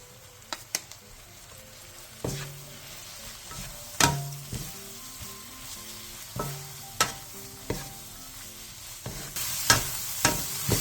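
Fish cake and bean sprouts are stir-fried over medium heat with soy sauce, corn syrup and chili flakes. A soft steady sizzle runs under repeated sharp scrapes and clacks of a utensil against the pan, some louder than others.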